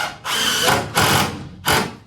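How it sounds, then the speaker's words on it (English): A power saw fitted with a fine-tooth blade cuts through a flange on a food truck frame in three short, loud buzzing bursts with brief pauses between them. "Cut it off, Bob, with a fine-tooth blade right at the top of that flange."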